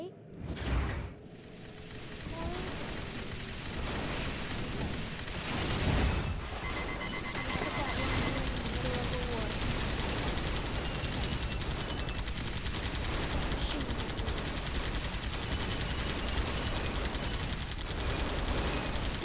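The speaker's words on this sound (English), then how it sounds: "their tactic is just shooting all the time" Continuous gunfire and mechanical combat noise from the video game AirMech Arena, with repeated shots and machine sounds running steadily throughout, while a voice talks over the battle.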